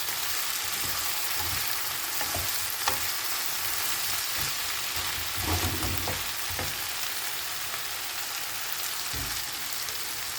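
Vegetables frying in a pan: a continuous close sizzle with occasional scraping and knocking as they are stirred, no voices.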